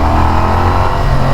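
A 2016 Moto Guzzi Audace motorcycle accelerates hard in second gear from about 32, its engine a loud, close, rising drone.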